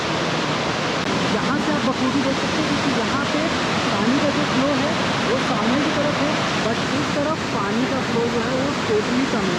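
Falling water at Narhara waterfall in Dhamtari during rain, a dense, steady roar that fills the whole clip without a break, with a voice talking over it.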